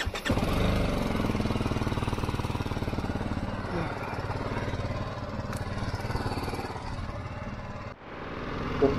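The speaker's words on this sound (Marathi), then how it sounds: "त्यामुळे बाईक मी कोल्ड स्टार्ट केलेली" Motorcycle engine running steadily just after a cold start, a continuous close, loud rumble with a rhythmic low pulse throughout, dipping briefly near the end before resuming.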